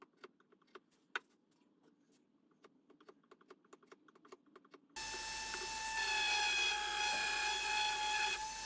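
A small wooden jewelry or trinket box being sanded: light scattered taps and clicks give way to a steady, loud, whirring rush of sanding that runs on continuously to the end.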